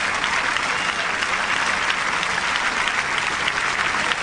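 Crowd at the 1999 Roland Garros semifinal between Graf and Seles applauding both players, a loud, dense, sustained ovation of many hands with no pause.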